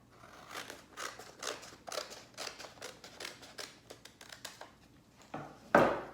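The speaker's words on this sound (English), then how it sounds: "you're gonna cut across the bottom of all 4 pages at the same time" Scissors snip across stacked printed paper sewing-pattern pages in a quick steady series of close crisp cuts, ending with a louder rustle of paper.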